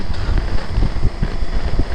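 Steady wind by the Murrumbidgee River buffets the microphone with gusty low rumbling and broadband rushing noise, loud and close for the whole stretch.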